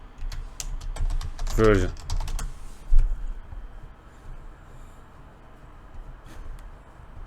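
A computer keyboard clatters under a quiet voice, with a short quick burst of keystrokes and a few scattered taps afterward, fairly faint in a still room.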